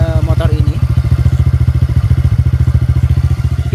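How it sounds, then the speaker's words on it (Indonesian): A 2022 TVS Ntorq 125 Race XP scooter idles close by with a deep, bassy, evenly pulsing engine beat, after a brief voice at the start. "Ini adalah suara pada saat idle-nya teman-teman sekalian ya."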